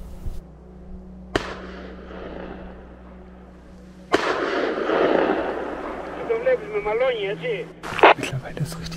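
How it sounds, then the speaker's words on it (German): Sharp gunshots crack out twice through a valley during a hunt, loud and echoing, with a burst of outdoor rustle and a voice near the end; a rolling reverberation follows each shot. "Endlich peitschen die ersten Schüsse durch das Tal."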